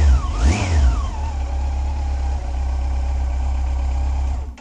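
A 2005 Yamaha FJR1300 motorcycle with 56,000 miles, freshly serviced with valves adjusted and a new cam chain tensioner, revs once sharply near the start, then settles into a loud, steady idle with no talking.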